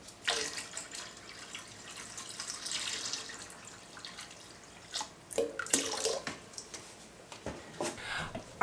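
Heated water pours into a large pot in faint, intermittent splashing bursts, quiet and close with a few gentle sloshes.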